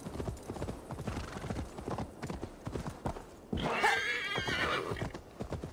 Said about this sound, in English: I love how the horse is like, ow, I can't go up hills.